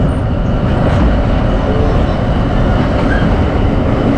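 The Ravi Express passenger train runs out of Lahore with a loud, steady broadband rumble of wheels and carriages, close and continuous, with a faint high squeal near the start and no voices.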